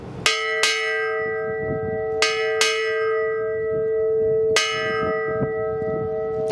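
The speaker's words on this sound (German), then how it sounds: "Die Glocke, die Schiffsglocke, wird immer von der Werft mitgeliefert." A sailing ship's main answer bell rings loud and near in paired strikes, two quick clangs, a pause, two more, then a single strike with a fainter tap, each leaving a long, bright, humming decay.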